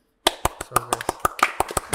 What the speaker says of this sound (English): put some clapping in there